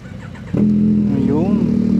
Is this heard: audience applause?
no